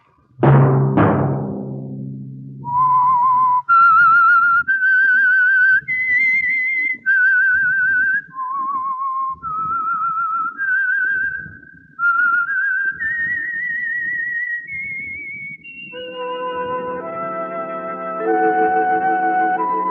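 A melodic whistled tune, clear and close, with a short string of rising and falling notes, after a brief opening chord of instruments and before a closing burst of music, from an old radio drama.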